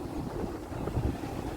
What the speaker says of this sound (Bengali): খুব ভালো হাওয়া চলছে